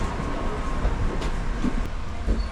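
Riding aboard the Coaster passenger train between Oceanside and San Diego, California: a continuous rumbling roll on the tracks with irregular clicks and clacks of the wheels, fairly close and steady, with no one talking.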